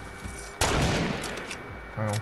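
A gold sniper rifle fires in the video game Fortnite: one sharp, loud shot cracks out, and a second burst follows near the end.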